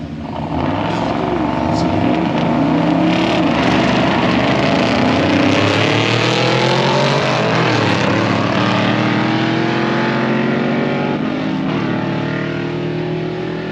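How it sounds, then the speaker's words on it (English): Straight-axle 1955 Chevrolet gasser launching down a drag strip, a loud roaring engine climbing through gears with rising and falling pitch sweeps, continuous and near, with a faint voice over the noise. "Josh Black and that straight axle 55 Chevrolet going up against Mike Tokyo Collins in the green"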